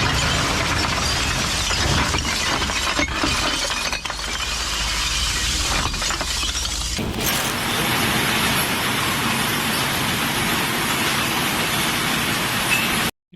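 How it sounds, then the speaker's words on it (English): Flowing volcanic lava makes a dense, continuous crackling and tinkling like breaking glass, loud and unbroken throughout, with the texture shifting partway through. "The lava flow that you heard of has the sound of broken glass or breaking glass"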